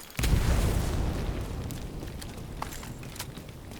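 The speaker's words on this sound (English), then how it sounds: "Saw that grenade launch, so it's time to move when you see a grenade in the air." A grenade detonates in The Division 2, a sudden loud boom that rolls into a long rumbling decay with a few scattered crackles afterward.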